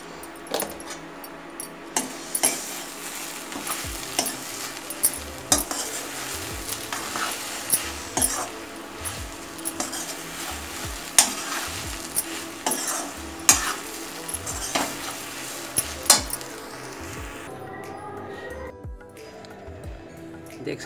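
Masala for momos being stirred and fried in a pan, a steady sizzle with frequent scrapes and clinks of the spoon, up close. A voice is faint in places.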